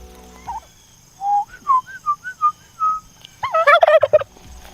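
Turkeys in a pen let out a string of short rising whistle-like calls followed by a loud, rapid, rattling gobble at the end, close and clear against a quiet background.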